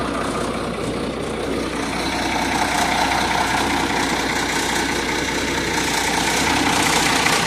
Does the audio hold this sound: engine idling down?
yes